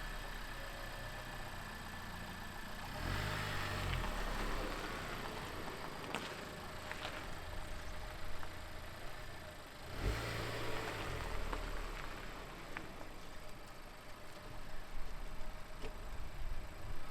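A 2019 Honda Civic Type R's engine runs fairly quietly under a broad wash of noise, with two short louder blips of revving partway through as the car starts moving.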